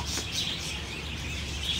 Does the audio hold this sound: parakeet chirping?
yes